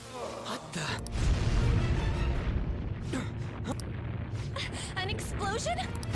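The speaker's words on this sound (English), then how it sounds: "An explosion?" A deep, rumbling explosion in the Persona 5 video game swells up after a second and rolls on as a loud, sustained roar, with game voices and effects over the top.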